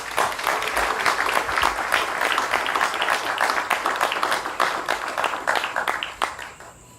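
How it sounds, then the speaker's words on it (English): Audience applause at a 2016 security services regional recognition awards ceremony for an honoured constable, a steady dense wash of many hands clapping that holds for several seconds, then thins and fades toward the end. "Please applaud Constable Mulgrave."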